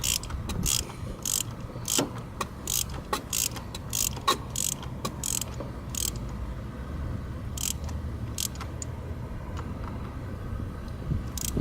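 A wrench tightening a nut on a bent stud of a scooter, with quick repeated ratcheting clicks in bursts over a low background hum, fairly close and without talk.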